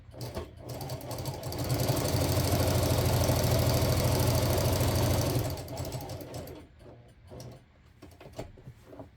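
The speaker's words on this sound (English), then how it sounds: "I'm going to swing it, stitch over my previous stitching to the next channel line" A sewing machine back-stitches across channel lines on a rice-bag heat pad quilt, running in one steady sustained burst of even mechanical whirring, then stopping and leaving quieter handling noises and brief faint activity.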